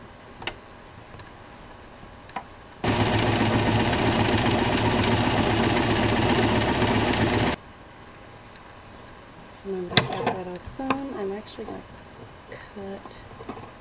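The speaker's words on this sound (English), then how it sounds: "And now I'm just going to sew it." A sewing machine stitches a doll's jean jacket in one steady, loud whirring run of about five seconds, preceded by quiet handling ticks and followed by a person talking.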